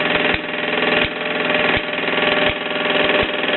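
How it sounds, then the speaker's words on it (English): A 1954 Mamod SE2 toy steam engine and its workshop drive run steadily as the boiler pressure falls, a close, continuous mechanical whir with a regular thump repeating about every 0.7 seconds, with no talking. "And the SE2 gradually spinning down now"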